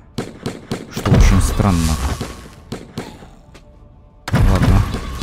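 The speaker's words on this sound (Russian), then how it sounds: "у них выстрелы прям очень громкие" Loud gunshots from the video game Zombie Battlefield Survivors burst out in several sharp cracks and heavier booms close up, partly overlapped by someone talking.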